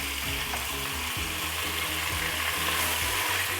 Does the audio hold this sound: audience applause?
no